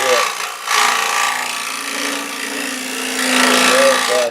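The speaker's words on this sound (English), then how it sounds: "And I just round that out with the scraper." A hand scraper rounds out a hollow in wood, giving a steady, close rasping scrape that runs continuously with slight swells in strength and no talking.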